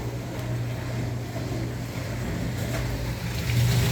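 A shop vac with its filter and bag removed sucks standing water out of a Whirlpool dishwasher drain, a steady close roaring whoosh with gurgling, swelling louder near the end.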